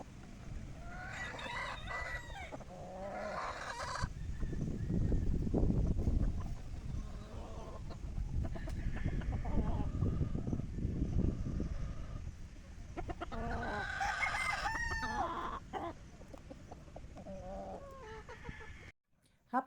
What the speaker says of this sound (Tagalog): Hapon na naman kaya nagpatuka na ulit ng mga manok si Richard.